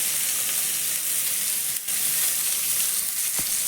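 Chopped medium-sized onion hits hot oil with fried whole cumin seeds, giving a steady, close, loud sizzle, with a brief stir and dip partway through.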